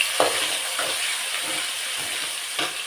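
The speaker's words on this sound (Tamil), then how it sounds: "வெங்காயமும் கருவேப்பிலையும் போட்டுக்கிறேன். வதக்கிக்கிறேன்." Onions and curry leaves sauté in a pan for brinjal rasam, giving a steady close sizzle and hiss. Several soft stirring scrapes rise out of it, and no one speaks.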